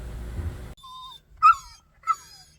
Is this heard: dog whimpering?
yes